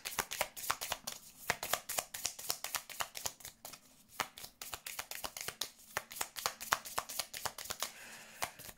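A tarot deck shuffled rapidly by hand and laid down, with dense, steady rhythmic riffling and light card slaps close by for several seconds.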